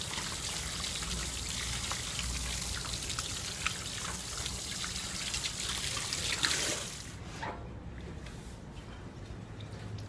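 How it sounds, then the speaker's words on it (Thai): Water runs and trickles steadily over a black-tip shark as it is washed and rubbed by hand, a close, continuous splashing flow that eases and quiets near the end. "ล้างแล้วมือถูเพิ่มเติม"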